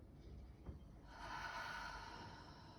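A slow, deep breath is drawn in through the nose, a soft airy inhale that swells after a brief sniff and holds for over a second, faint and close.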